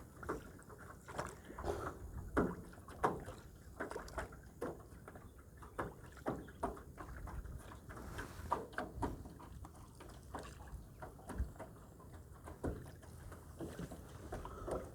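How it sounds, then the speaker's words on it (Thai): Oars or paddles dip and knock in a slow, steady rhythm as a rowboat is paddled across water, the faint splashes and thumps repeating through a quiet outdoor scene. "นั่งเรือกับพี่น้องนั่งเรือ เรากำลังพายเรือ"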